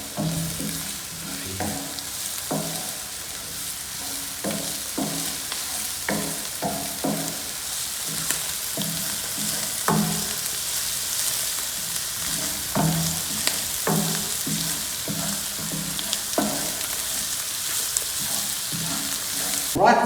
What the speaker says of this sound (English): now we will saute that for 1 minute